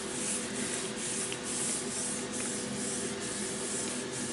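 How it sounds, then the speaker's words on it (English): Paper is rubbed firmly over a gel printing plate to lift paint. The result is a steady, soft, close scrubbing hiss that continues without a break and has no talking over it. "I'm giving it a pretty good rub too, by the way."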